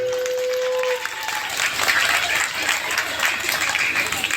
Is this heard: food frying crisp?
no